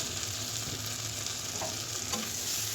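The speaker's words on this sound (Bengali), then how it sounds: "মশলাগুলো ভালো করে নেড়ে চেড়ে ভেজে নেব" Spices with ginger paste, garlic paste, salt and turmeric stirred and frying in a pan, a steady close sizzle with soft scraping strokes and no talk.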